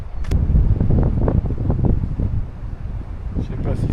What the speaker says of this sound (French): Un petit peu venteux au bord de mer.